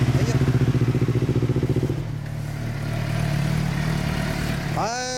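A 2015 Yamaha YZF-R25 fitted with an Overracing exhaust idles with a steady pulsing throb up close, then its engine note shifts and rises into a short rev near the end.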